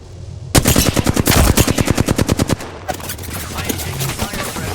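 Video game gunfire during an end-zone battle, a rapid burst of automatic shots in a tight rhythmic string, followed by scattered softer combat noise.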